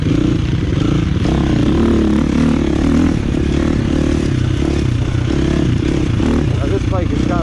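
A KTM 450 EXC motorcycle fitted with an aftermarket power bundle roars steadily while being ridden, with a continuous, loud, rough engine drone mixed with wind rush throughout.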